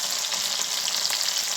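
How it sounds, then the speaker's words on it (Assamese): Fish fries in hot oil in an iron kadai wok, a close, bright, continuous sizzle with faint crackling pops scattered through it and no voices. "এইফালে মাছ ভাজি আছে"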